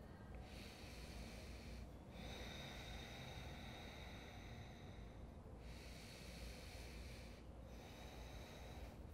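Slow, deep yoga breaths during a detoxifying flow, each long, airy inhale and exhale drawn close and loud, with brief pauses between them and no talking.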